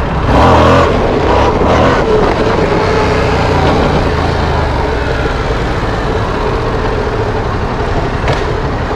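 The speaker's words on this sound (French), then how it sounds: "Je prends l'embrayage, j'accélère et je lâche." A Yamaha MT-07 motorcycle engine revving hard for a wheelie, a loud, sustained roar that stays close and continuous, with wind noise over it and no voices.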